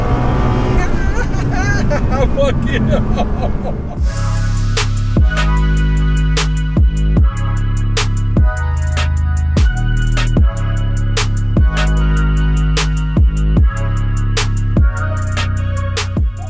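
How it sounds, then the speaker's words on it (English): A 1000-horsepower Nissan GTR pulls hard under full acceleration, its loud engine climbing through rapid repeated gear changes, each shift marked by a sharp break in the rising note, with a voice briefly heard at the start. "1000 horsepower Nissan GTR. That's a good pull in here."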